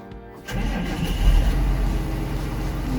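A 2004 John Deere 6620 tractor, 130 hp, cranks and starts after half a second of quiet, then settles into a loud, low, rumbling run close by.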